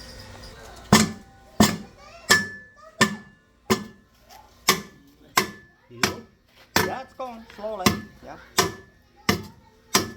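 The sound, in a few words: hammer fitting an ATV tire onto the rim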